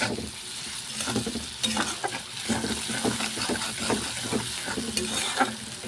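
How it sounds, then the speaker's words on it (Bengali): Close, steady sizzling of food frying in a pan, with repeated stirring scrapes giving it a loose rhythm throughout and no talking. "এটা কিন্তু ভাজতে হবে।"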